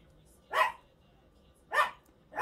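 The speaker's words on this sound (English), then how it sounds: "You're gonna hear my dogs." Dogs barking indoors at a moderate distance, three separate barks spaced about a second apart, with nothing else in between but quiet room tone.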